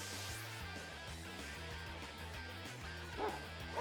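Cry of Dachsbun, the small bread-dog Pokémon, in a Pokémon battle game: a few quick synthesized yapping barks over steady stepped game music, with a brief brighter burst near the end.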